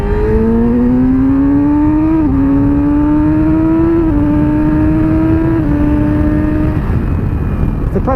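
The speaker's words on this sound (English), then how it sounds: "Sound of this bike is just intoxicating" A 2017 Yamaha R6 sport motorcycle engine revs hard and high, its pitch climbing through several gear shifts, loud and close, with a screaming tone.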